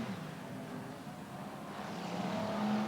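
BriSCA F1 stock cars racing in a 1996 semi-final at Kings Lynn, heard as a faint, distant, steady engine roar that swells slightly toward the end.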